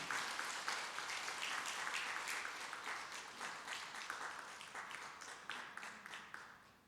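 A church congregation at Suan Church claps in steady, even applause throughout, at moderate distance with no voices over it.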